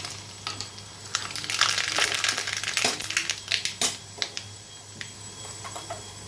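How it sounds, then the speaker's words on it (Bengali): Mustard seeds and dried red chillies crackle and pop in hot oil, a close burst of irregular sharp sizzling snaps that thins out toward the end, with no talking. "এখানে তেলটা গরম হয়ে গেছে, দিয়ে দিচ্ছি সর্ষে আর শুকনো লঙ্কা।"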